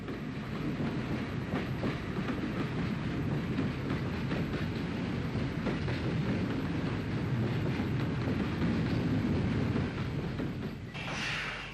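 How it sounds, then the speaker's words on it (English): LMS-built steam locomotive Number 8, constructed at Derby in 1946 for Ulster lines, running on the GNR with a steady, continuous rumble of wheels and train noise throughout, loud and close with no talk. "Number 8, the engine seen here, was built by the LMS for their Ulster lines at Derby in 1946."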